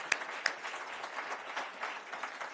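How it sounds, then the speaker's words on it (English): Faint, distant applause from a crowd at a transportation announcement on electric-vehicle charging, a low patter of clapping with a couple of sharper claps near the start. "We should clap for that one, too, I think."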